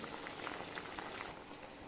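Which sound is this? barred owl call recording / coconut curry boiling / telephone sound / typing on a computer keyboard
coconut curry boiling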